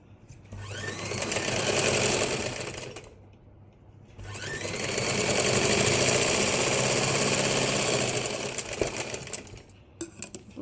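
A sewing machine stitches a fabric hand pouch in two long runs of steady, fast needle whirring. A brief pause splits the runs, and a few short clicks and taps of handling come near the end.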